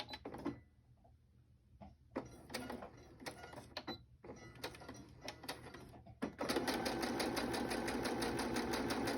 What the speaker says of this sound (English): I think that I want to do a straight stitch going across